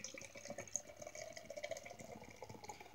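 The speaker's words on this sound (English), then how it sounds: "So here we go, we'll pour it into the glass." Barrel Aged Kollusion beer from Boom Island Brewing, freshly opened, poured into a glass: a steady liquid fill with gurgles and soft splashes, close and moderately quiet, no talking.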